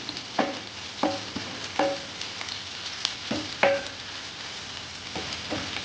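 Cumin and tamarind fry in a little oil for a North Karnataka ballolli khara, a soft steady sizzle punctuated by regular scraping strokes of a spoon against the pan.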